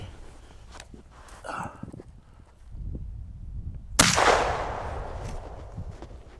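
A single loud gunshot fired through the walls of houses during a wall penetration test cracks out sharply and then rings off into a long fading tail, after several seconds of low rumbling and shuffling handling noise.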